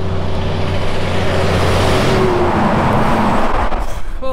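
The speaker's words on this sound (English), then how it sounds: "there's heaps of road trains going past" Heavy road trains roar past on the Stuart Highway in outback Australia, a loud continuous rumble of big engines and tyres that swells and shifts as the vehicles pass close by.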